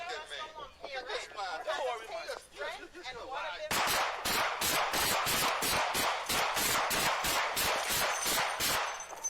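A rapid string of more than a dozen gunshots cracks out in quick succession, loud and sharp, following several seconds of overlapping voices and chatter.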